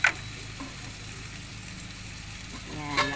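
Water poured into a hot pan while cooking sopas gives a steady low sizzle and hiss, with faint clinks at the start and near the end.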